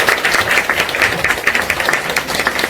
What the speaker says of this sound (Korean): 정상남 기자님 큰 박수 부탁드립니다.